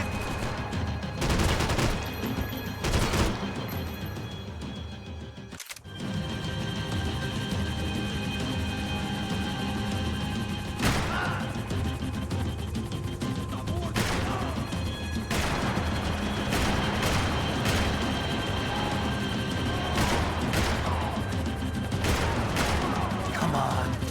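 Repeated bursts of gunfire in the video game Max Payne 3, loud, dense volleys of shots dominating, with a brief dropout near the start and crashes mixed in under game audio.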